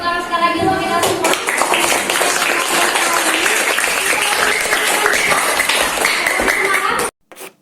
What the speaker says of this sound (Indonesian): beri tepuk tangan sekali lagi untuk kita semua